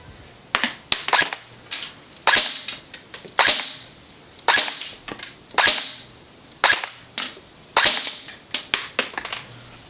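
A G&G Combat Machine RK47 airsoft electric gun fires 0.2 gram rounds as separate sharp cracks, about sixteen single shots at an uneven pace, each with a short bright snap, loud and close.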